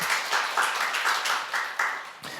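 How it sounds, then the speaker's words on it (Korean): A congregation claps together during a Sunday worship service at a Korean church, a steady wash of applause with slight swells that fades near the end. "우리 박수 한번 쳐줄까요?"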